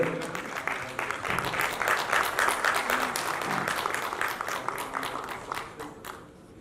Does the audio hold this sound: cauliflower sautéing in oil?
no